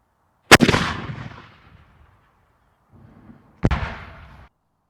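An 18th century cannon fires twice, each shot a sharp, loud boom that trails off into a rumbling decay, the blasts about three seconds apart with no talking.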